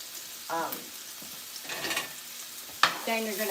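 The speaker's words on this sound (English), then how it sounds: "Then you're going to add in egg and some butter. You're going to fry that up" Egg frying in butter in a nonstick grill pan, with bursts of sizzling and crackling that come and go, and scraping stirring sounds between them. No one speaks.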